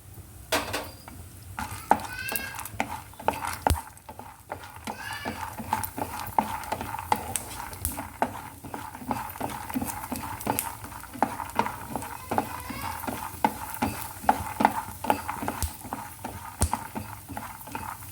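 Roasted gram dal (putnala pappu) frying in a hot pan for peanut chutney, a continuous close sizzle broken by frequent scraping and clinking of a spoon stirring against the metal, steady throughout with no voices.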